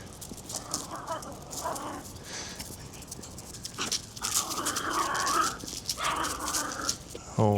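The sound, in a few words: dogs barking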